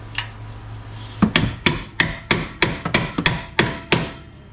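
A hammer taps a bolt during a BMW X5 suspension repair, roughly a dozen sharp, close metallic strikes at a steady, even pace.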